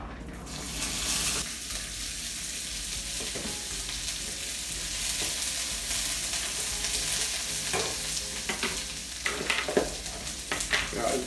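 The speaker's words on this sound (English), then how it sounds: "saute some onions and some cabbage and some leeks." Onions, cabbage and leeks sauté in a pan for an Irish colcannon, a close, steady sizzle with stirring and occasional scraping clatter of a utensil, and no talk.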